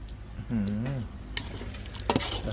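A utensil stirs vegetables into a pot of ox tongue soup, with a few scraping clinks and a soft simmer. A voice briefly sounds over it.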